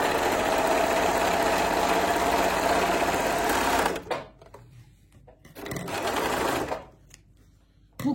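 An overlock sewing machine runs fast and loud while stitching and trimming a fabric edge, stops abruptly, then runs again in a short burst before falling quiet.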